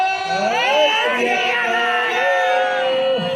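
A crowd of Sikh worshippers roars a jaikara back in unison in reply to a leader's call at a gathering honouring Guru Hargobind Sahib Ji, a loud, sustained, many-voiced shout filling the whole moment.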